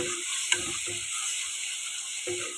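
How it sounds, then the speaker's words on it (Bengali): Fish lightly frying in hot oil, giving a steady soft sizzle with a few sharp utensil clicks and scrapes scattered through, and no one talking. "তবে এটাকে পুরো একদম কড়া করব না, হালকা ভেজে নেব"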